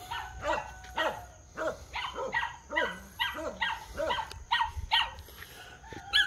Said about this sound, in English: That's another puppy there,